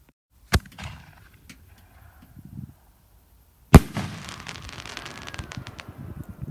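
A homemade DIY firework mortar tube fires shells: a sharp launch thump, a short fizz, then after a pause a second loud bang followed by crackling and popping that trails on, fairly close, with no talking.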